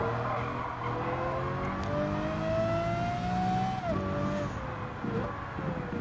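Lamborghini race car in the Gran Turismo 7 video game, its engine droning steadily at high revs with pitch rising and dipping through gear changes, loud and continuous throughout.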